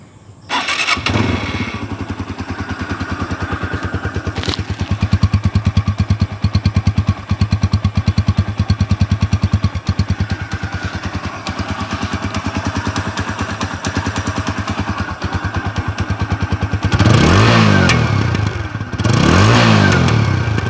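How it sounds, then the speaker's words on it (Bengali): A TVS Apache RTR double-disc motorcycle in fresh condition starts up and settles into a close, steady idle, then revs hard twice near the end. "ইঞ্জিনের সাউন্ড যদি আপনাদেরকে শোনানোর চেষ্টা করি।"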